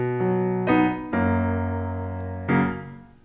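Piano chords from an easy accompaniment to a pop song are played slowly, sustained and ringing, changing in a few separate strikes with a steady decay between them.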